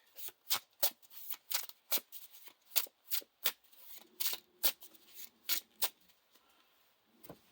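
Playing cards from a Lord of the Rings card game are shuffled into a deck, a quick run of crisp, close riffling and flicking bursts, with a faint low hum partway through.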